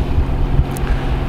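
A sailing boat motoring at about 5.5 knots, its engine giving a steady close low rumble and drone that runs throughout, with some wind noise buffeting the microphone.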